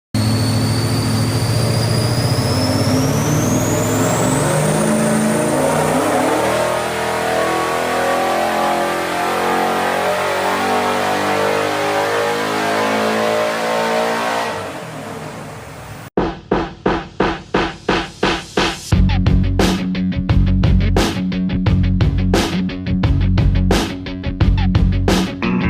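A car with an LS3 engine and AFR Enforcer cylinder heads roars loudly on a chassis dyno, climbing steadily in pitch through a long sustained pull, then dropping off into a run of sharp, rapid popping bursts.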